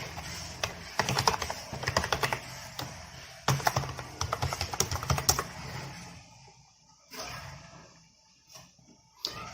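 Close computer keyboard typing during a login, bursts of quick key clicks for several seconds, then the taps thin out to a few isolated strokes over quiet.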